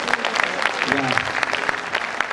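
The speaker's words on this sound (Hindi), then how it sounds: "एक साथ ताली बजाओ, इतनी मेहनत से करो" A large audience at a Hindi kavi sammelan poetry reading claps together in dense, sustained applause, with crowd voices mixed in beneath the steady clapping.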